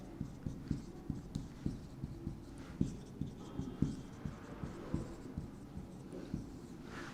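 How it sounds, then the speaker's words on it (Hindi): Chalk or marker taps and strokes across a board while a 3 by 3 matrix is written out for a class 12 matrices lesson, a steady rhythm of sharp knocks, close and fairly faint, with no talking. "मैं 3 बाई 3 की मैट्रिक्स लिखता हूँ"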